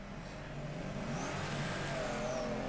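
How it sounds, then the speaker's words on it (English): A drift car engine in the Torque Drift video game revs steadily for a third-gear launch, a continuous mid-pitched drone at low level that rises slightly in pitch, with no talk over it. "so we will try third gear launch."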